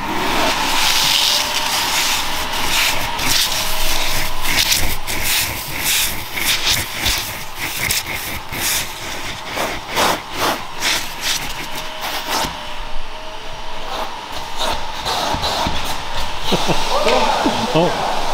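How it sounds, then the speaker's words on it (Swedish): A vacuum cleaner runs steadily while cleaning the interior of a Lamborghini Huracan, a constant airy hiss and whine with bumps and scraping as the nozzle moves, and a voice talks faintly under it. "Nu kan du sätta på dammsugaren, Robin."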